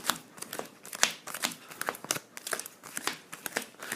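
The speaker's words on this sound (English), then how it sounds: "Oh, they are sleeve, these cards, of course." Sleeved Le Havre board game cards being shuffled and handled, giving rapid crinkly plastic rustles and snaps in an uneven rhythm, close and fairly quiet.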